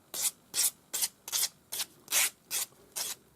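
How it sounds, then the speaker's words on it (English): A Swiss number 2 cut flat hand file rasps across the end of a metal earring wire in eight steady, evenly spaced strokes, each a short bright scraping burst, close and alone with no talk. "I'm using a Swiss number 2 cut flat hand file. Then 400 grade sandpaper."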